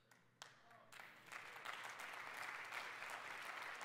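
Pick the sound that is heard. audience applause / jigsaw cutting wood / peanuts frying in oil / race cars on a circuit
audience applause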